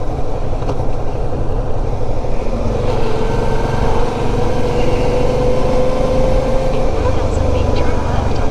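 A truck is on the road just ahead, heard over a steady, loud drone of engine and road noise that stays continuous and even from start to finish.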